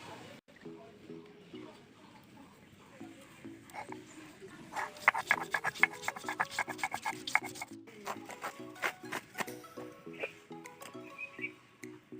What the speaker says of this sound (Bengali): মটরের ডালটা ভিজিয়ে রেখেছিলাম, এখন আমি বেটে নেব।